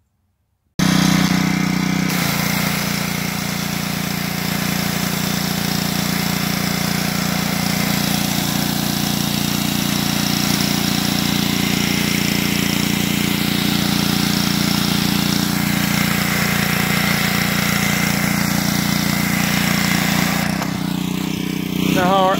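Pressure washer engine drones steadily and loudly outdoors while blowing leaves out of a bush, a constant mechanical hum running unbroken from start to finish.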